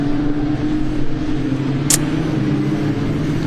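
A racing car engine drones steadily at a circuit race meeting at Croft, a loud sustained rumble with a sharp brief hiss partway through, and no speech.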